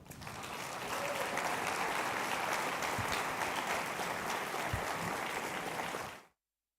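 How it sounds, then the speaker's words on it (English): Sustained applause from an audience at a business and entrepreneurship event, a dense, steady clapping that runs loud and unbroken for about six seconds before cutting off abruptly. "Let us keep clapping."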